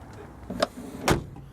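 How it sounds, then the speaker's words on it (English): An old car door shuts with two solid thuds, the second heavier and fuller, close by in a quiet setting. "I mean, the door's just shut. I mean, they sound like an old vault closing up."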